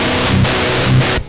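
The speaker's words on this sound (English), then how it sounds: "Now I send it into my amp" Heavy metal guitar DI signal sent through an amp with a reactive load and no speaker cab, a loud, dense, saturated distorted tone with two strummed bursts before cutting off.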